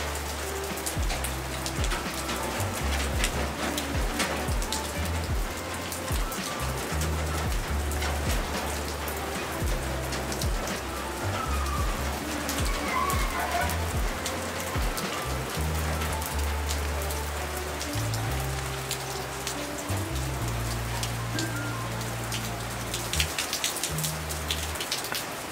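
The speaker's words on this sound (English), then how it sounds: "So much rain." Storm Dennis brings heavy rain, a thick and unbroken roar of drops drumming on surfaces for nearly half a minute, with low rumbling and gusty swells underneath.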